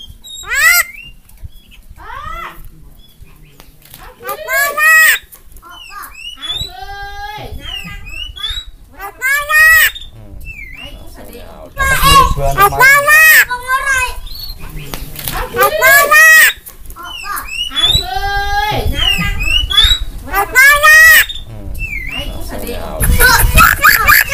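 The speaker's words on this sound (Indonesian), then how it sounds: "bisa ngomong atau menirukan omongan-omongan atau suara manusia, bahkan suara burung-burung lain" A jalak kebo myna bird produces a series of varied whistles, squawks and harsh chattering calls, some resembling spoken syllables, in loud bursts separated by short pauses.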